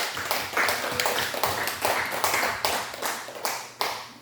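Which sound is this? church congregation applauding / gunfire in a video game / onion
church congregation applauding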